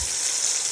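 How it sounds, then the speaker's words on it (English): Tomato paste, onion, curry powder and Knorr chicken seasoning frying in a pot, giving a steady, close hiss of sizzling oil throughout, with no talking. "I'm frying my tomato paste, my onion, my knorr chicken."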